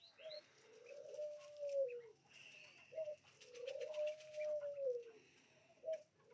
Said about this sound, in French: peut-être la tourterelle